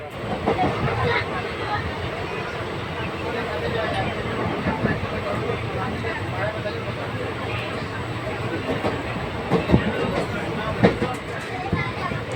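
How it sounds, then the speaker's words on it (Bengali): A passenger train rolls along the rails after leaving the station on the way toward Darjeeling, with a steady rumble, rattle and faint clickety-clack heard from inside the carriage, loud and continuous throughout. "আমরা ট্রেনে উঠে গেছি এবং ট্রেন ছেড়ে দিয়েছে"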